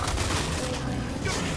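Dense, continuous gunfire from a Gears 5 video game battle rattles in a loud, unbroken barrage of overlapping shots and booms.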